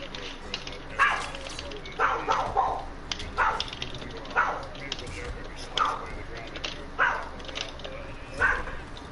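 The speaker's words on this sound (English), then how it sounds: "That dog's a lot louder." A dog barks in regular bursts, roughly one every second or so, fairly close and loud over a quiet room with faint background noise.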